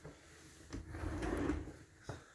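A household drawer slides open or shut in a kid-sized bedroom of a house for sale, a soft rolling rumble with light knocks at the start and end, fairly quiet and alone.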